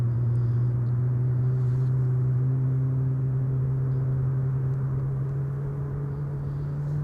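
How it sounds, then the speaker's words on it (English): A GE90 jet engine on an arriving aircraft at Amsterdam Schiphol Airport, carried by the wind as a steady, loud low drone with strong humming tones, holding constant and fading only slightly over several seconds. "The wind is blowing the sound of the GE90 directly towards us."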